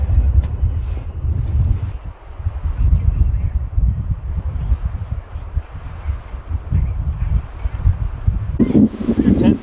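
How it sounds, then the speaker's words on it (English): Strong wind buffets a campsite in Vedauwoo, roaring steadily and loudly in low rumbling gusts across the whole stretch, with a brief rustling flare near the end. "It's very windy."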